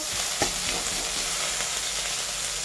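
Tomato and onion sizzle steadily in hot oil while a spoon stirs them, with one sharp scrape of the utensil early on amid the continuous frying hiss.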